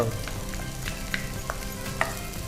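Finely chopped onion frying in ghee for an egg ghee masala, a close, continuous sizzle with occasional stirring scrapes and no talk.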